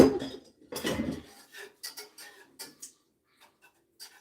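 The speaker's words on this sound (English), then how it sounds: "So we want to stir it before it starts to thicken, right?" A metal whisk clinks and scrapes in a pot while Tokyo banana cream filling is stirred on low heat, a few louder scrapes then quick light taps that fade to faint ticks.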